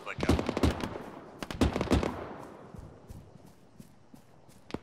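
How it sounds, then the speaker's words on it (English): Machine gun fire crackles far off in a military video game, two quick clusters of sharp bursts followed by fainter scattered shots fading into the distance. "They're firing really far away. Yeah, I just saw incoming machine gun."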